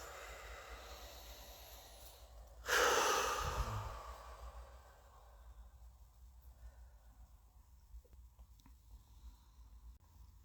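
A single deep breath released through the mouth during a breathing exercise: one strong, breathy exhale that fades away over a few seconds, then quiet breathing. The breath is close and heard alone.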